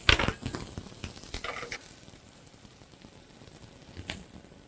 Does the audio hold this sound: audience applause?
no